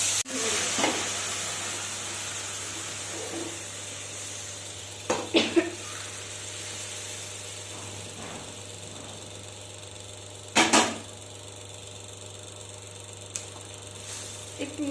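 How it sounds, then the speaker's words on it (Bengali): Dried peas for Bengali vegetarian ghugni drop into a spice paste frying in oil, giving a continuous soft sizzle with a few sharp scraping and clattering bursts from stirring. "এবার আমি ঘুগনিগুলোকে দিয়ে দেবো"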